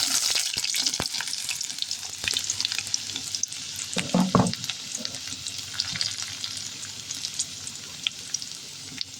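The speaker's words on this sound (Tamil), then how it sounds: "அந்த வெங்காயத்தை வந்து இது கூட ஆட் பண்ணி" Onion for a beef pepper fry crackles in hot oil with a constant soft sizzle and occasional stirring clicks and scrapes, one louder stir midway.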